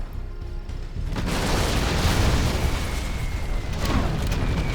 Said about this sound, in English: Carpet bomb there